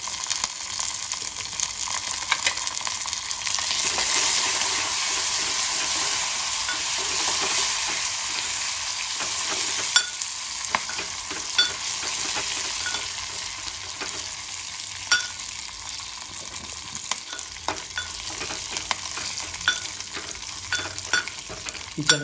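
Garlic and curry leaves tempering in hot oil for a rasam, a steady broadband sizzle with occasional stirring clicks and pops, close and continuous throughout with no voices.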